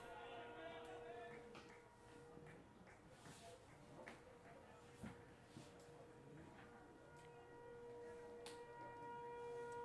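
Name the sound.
tornado siren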